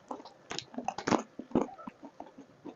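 Crunchy candy-coated strawberry (morango do amor) being bitten and chewed, a series of close, crisp crackling crunches in quick irregular bursts.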